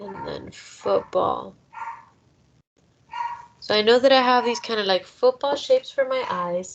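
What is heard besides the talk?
dog barking in the background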